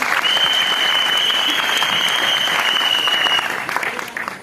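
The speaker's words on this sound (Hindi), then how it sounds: "Vivan, please तालियां होनी चाहिए." Sustained applause from the audience at a press meet for a film teaser launch, dense steady clapping that holds for about four seconds then tapers off, with no speech over it.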